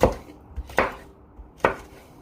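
A knife slices a red pepper on a cutting board in three crisp, separate chops with short pauses between them, close and clear, with no voices.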